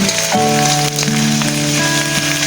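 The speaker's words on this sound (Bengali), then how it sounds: "প্রথমে পেঁয়াজটা ভিজে নিব তারপরে দিয়ে দিব মরিচ এলাচ দারুচিনি আদা রসুন জিরে বাটা" Onions sizzle in hot oil with chili, cardamom, cinnamon, ginger, garlic and cumin paste, a loud, continuous crackling hiss like heavy rain, with sustained musical tones running underneath throughout.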